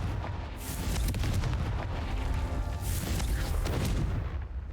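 A Confringo fire spell bursting in Hogwarts Legacy, a loud, sustained roaring blast with rumbling booms and crackling debris filling nearly five seconds.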